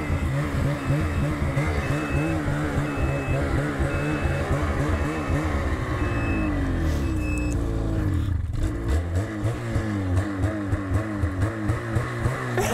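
Snowmobile engines revving outside a pub, loud close throaty roars with rising and falling pitch overlapping and continuing throughout.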